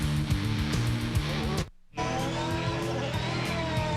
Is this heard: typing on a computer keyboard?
no